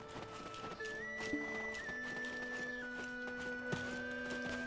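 Horses in the online role-playing game Black Desert Online, with neighing and occasional hoof clops over a steady bed of sustained tonal game music, holding an even level with no speech.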